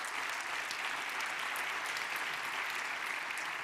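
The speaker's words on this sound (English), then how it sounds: "could we just give our 3 exhibitors a final round of applause?" A conference audience gives a final round of applause for exhibitors at a water innovation event, a thick, continuous clapping wash at even level throughout, with no speech.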